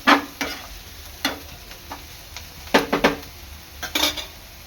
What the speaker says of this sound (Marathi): दोन ते तीन मिनिट चांगलं परतून घ्यायचं आहे